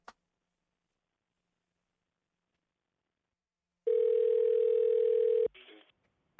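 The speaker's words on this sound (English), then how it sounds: "It's ringing right now." After a long silence, a single steady phone ringback tone sounds for about a second and a half, then cuts off with a brief crackle, on a call to a crime tip line.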